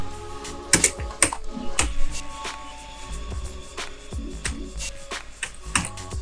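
Code is typed on a computer keyboard in a brisk, uneven run of close, crisp key clicks and clacks, with a few heavier taps and a faint steady background hum.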